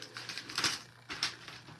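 Paper strips being cut for a handmade card, a quick series of crisp snipping and chopping bursts, close and fairly quiet, with no talking.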